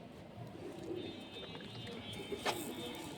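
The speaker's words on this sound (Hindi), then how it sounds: "देखिए भाई ये कबूतर" Punjabi pigeons kept by a fancier in Jabalpur, cooing softly and intermittently, fairly faint and close, with a low background hum and a brief sharper chirp near the end.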